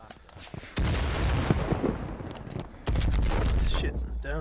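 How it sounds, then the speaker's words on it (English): Heavy automatic gunfire blasts down a hallway in a competitive video game match, two long loud bursts of continuous shooting with a brief lull between, over caster commentary. "Lots of gunfire down this hallway."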